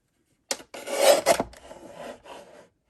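Card stock being cut on a paper trimmer for a card sketch: a single rasping slide of the blade through the sheet lasting about two seconds, close and clear, with no talking.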